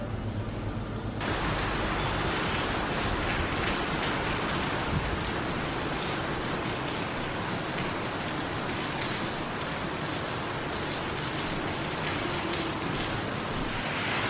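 Steady rain falls outdoors at a closed souvenir shop area in Sabah, Borneo, a dense continuous hiss without pauses or voices.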